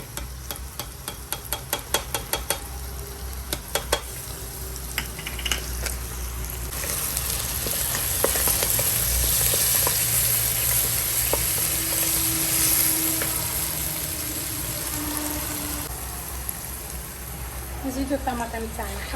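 Canned tomato goes into a hot pan while preparing Oran-style douara tripe stew, bringing a steady sizzle with scraping stir strokes after a few clicks, close and fairly loud, with occasional speech in the background.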